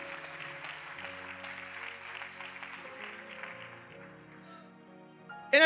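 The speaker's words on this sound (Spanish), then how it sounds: "Bendígalo con su ofrenda de palmas." A church congregation claps during a sermon, a steady spread of applause from many hands heard over sustained organ or keyboard chords, fading toward the end before a sudden loud burst.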